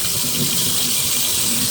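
Water runs steadily from a leaking faucet into a sink, a constant close splashing rush with no voices.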